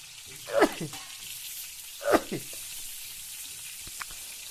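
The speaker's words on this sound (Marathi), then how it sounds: "आपल्या कारली मस्त अशी परतावून घ्यायची तेलामध्ये" Two short bursts of sizzling as bitter gourd hits hot oil, with a faint crackle lingering between them and a small tick near the end.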